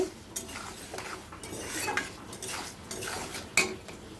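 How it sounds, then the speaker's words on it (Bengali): Moong dal being stirred as it dry-fries in a pan, a spoon scraping and clinking against the metal in steady repeated strokes, close and fairly quiet, with one sharper clink near the end. "আমি এই যে ভালো করে নাড়িয়ে এই যে ডালটা আমি ভাজা করে নিচ্ছি।"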